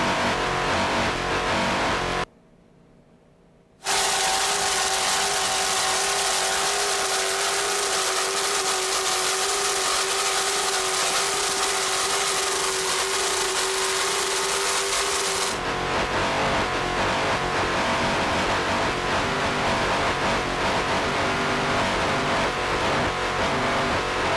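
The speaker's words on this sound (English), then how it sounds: "Let's listen to those two 800-horsepower Mercury engines." Twin 800-horsepower Mercury engines drive a Cougar racing powerboat during a 1993 Lake of the Ozarks race, a loud sustained roar that briefly drops out near the start and then shifts in tone as the boat passes.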